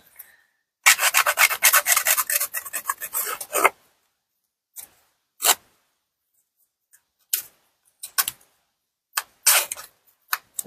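A scuffer rubbing along the edges of vellum sheet: a sustained rasping scrub for about three seconds, then a series of short scratchy strokes, close and fairly quiet, with no talk.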